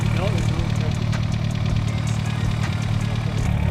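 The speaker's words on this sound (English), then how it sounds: "3-inch exhaust on this thing" A Dodge Shadow Shelby CSX with a 3-inch exhaust idles with a deep, steady rumble continuously at close range, with faint voices in the background.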